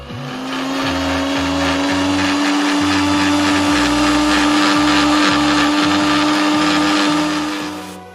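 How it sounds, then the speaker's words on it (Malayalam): A blender whirs loudly and steadily, churning egg, oil and salt into mayonnaise. The motor hums close up as its pitch shifts in repeated surges. Nobody speaks over it. "നമുക്ക് നന്നായിട്ടൊന്ന് അടിച്ചെടുക്കണം."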